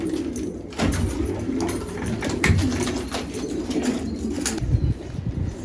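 Released pigeons take off with loud, repeated bursts of wing flapping close by, over a busy background of cooing and rustling birds.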